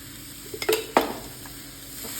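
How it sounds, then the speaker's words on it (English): A spoonful of coconut oil and spices being stirred in a pan, giving a couple of brief scraping clinks and a soft sizzle against a quiet kitchen background. "And stir them"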